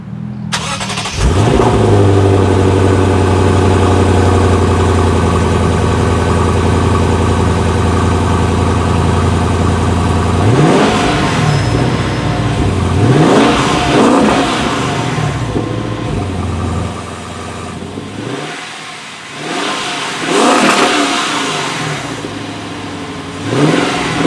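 A 2015 Lexus RC F's 5-liter V8 starts up and idles loudly, then is revved in several sharp surges with the engine settling back to idle between blips, close and without speech.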